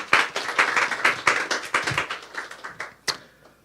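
A church congregation at a Lunar New Year holiday Sunday service claps together in a brief burst of applause, the claps fairly close and slightly uneven, tapering off with a few last claps.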